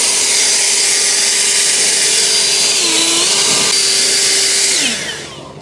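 A snow blower clears snow away from a shop floor, a steady loud broadband roar with a sustained whine that dips in pitch midway, then cuts off and fades into quiet near the end.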